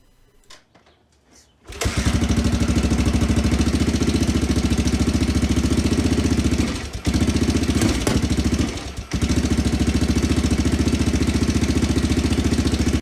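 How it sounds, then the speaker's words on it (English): A 1983 Honda XR500 dirt bike, a barn find, starts up and settles into a steady, loud, throbbing idle off choke, heard close with a couple of brief dips in the running. "we now have a bike that idles off choke"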